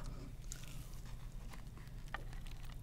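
Someone eats spicy braised seafood with king tiger prawn, abalone, glass noodles and enoki mushrooms, with close, steady chewing and a few sharp crunchy bites over a constant low background hum.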